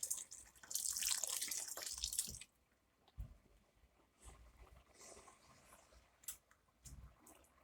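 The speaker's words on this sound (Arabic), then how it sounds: "هنزود له ميه طبعا اهو." Water streams into a pot of washed, soaked golden basmati rice for cooking, a brief splashing pour up close, followed by quieter drips and small knocks.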